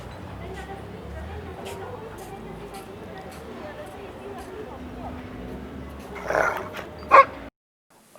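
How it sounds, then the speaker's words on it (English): Dogs on an Ecuador roadtrip bark and yip in a couple of sharp bursts near the end, after a stretch of quiet background and talking, then the sound cuts out abruptly. "a bunch of sleepy dogs."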